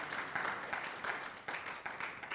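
A church congregation applauds for Jesus during a Sunday worship service, steady mid-distance clapping that swells in uneven waves for a couple of seconds without voices on top.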